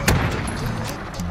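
Gunfire in the Call of Duty: Modern Warfare video game: a single sharp shot at the start followed by a few fainter distant pops under steady game ambience.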